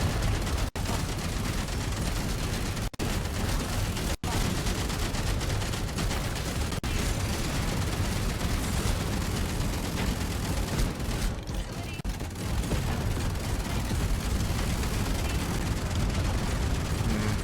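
A Gatling turret in the game Outpost: Infinity Siege fires continuously, a dense steady roar of rapid shots with a few sharp breaks and some talk faintly mixed in.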